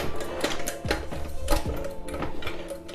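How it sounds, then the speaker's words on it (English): A car jack is pumped up beneath the suspension mounting bolt of a 1987 Kawasaki ZX600A GPZ600R motorcycle during an engine-removal rebuild, giving close, steady mechanical clicking and creaking in an uneven rhythm with no talking. "I'm going to use a car jack and place it underneath the suspension mounting bolt"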